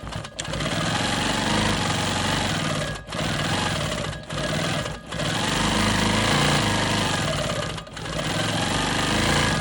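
A Quilt Maker Pro 20 longarm quilting machine runs at a loud, steady, whirring hum while free-motion stitching a quilt block. The sound breaks off in several brief pauses before it starts again. No voices are heard.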